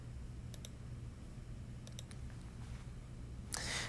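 A handful of sharp, quick key presses on a TI-83/84 graphing calculator come in small clusters over a low steady hum, with a louder brushing rustle at the end.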